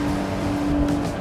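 Twin engines of a Salpa Avantgarde 35 motor boat run at full power above 40 knots, a loud, steady drone with a constant tone and no break.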